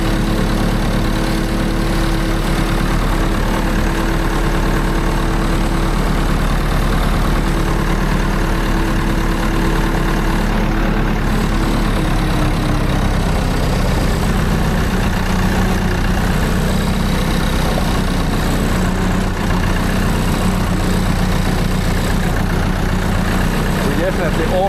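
A tractor engine rumbles steadily while driving off-road over rough ground, a constant, fairly close low drone that holds throughout without pause.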